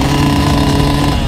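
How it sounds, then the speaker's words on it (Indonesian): Off-road motorcycle engine revving hard on an extreme trail climb, a loud, steady, close buzzing roar. "Wow, geber dulu biasa ya."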